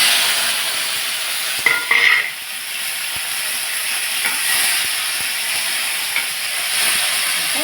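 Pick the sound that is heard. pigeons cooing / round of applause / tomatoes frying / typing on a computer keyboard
tomatoes frying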